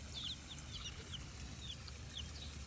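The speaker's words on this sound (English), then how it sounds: "Because some of them are bantams, so they're not going to be big chickens." Bantam chickens cluck softly outdoors on grass, scattered short high clucks and chirps over a low steady background hum, fairly faint and without talk.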